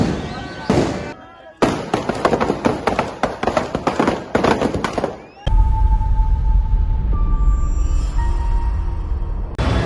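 At a Ravan Dahan festival in Uttam Nagar, Delhi, a string of firecrackers goes off in a loud, rapid crackling burst for several seconds after an earlier single bang, followed by a steady roar of crowd noise and distant activity.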